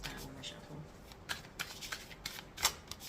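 Tarot cards are shuffled by hand in a run of quick, soft riffling bursts at close range, with a quiet voice faintly underneath.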